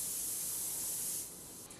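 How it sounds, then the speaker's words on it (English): An airbrush sprays paint in a steady, close hiss that runs alone for over a second, then drops a little quieter toward the end. "I'm not waving the airbrush back and forth."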